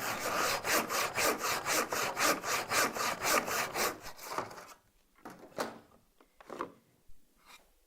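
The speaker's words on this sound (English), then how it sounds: "pop your wooden saw into it and then simply just cut away" A wooden hand saw cuts wood in a miter box with steady, rhythmic back-and-forth strokes, close and clear, then stops, leaving a few scattered rubs and knocks of the workpiece.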